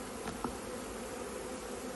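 A soft, continuous buzz of honeybees hums steadily around a hive, fairly quiet and uniform with no voices.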